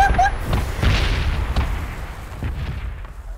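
Molotov cocktail fire and explosions in the video game PUBG: several loud booming bursts and crackling blasts, spaced irregularly over a low rumbling bed.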